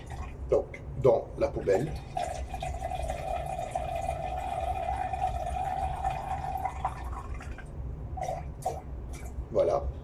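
Water drained out of a test flask into a bin after separating ethanol from SP95 fuel, a steady liquid pour lasting several seconds, with someone speaking French before and after.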